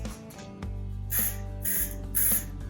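Three short hissing bursts of an aerosol can spraying Plasti Dip rubber coating, close by and evenly spaced, over a low steady background hum.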